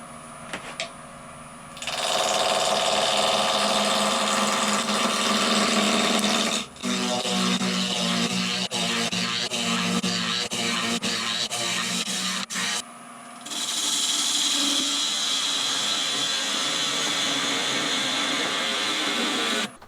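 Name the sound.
truing up a wooden blank on a wood lathe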